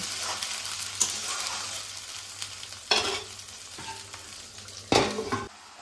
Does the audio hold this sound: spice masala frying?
yes